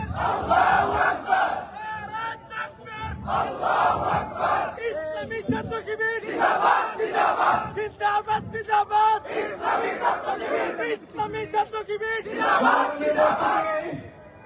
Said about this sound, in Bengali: এই মুহূর্তে কিন্তু ঢাকা বিশ্ববিদ্যালয়ের টিএসসি মুহুর মুহুর স্লোগান হচ্ছে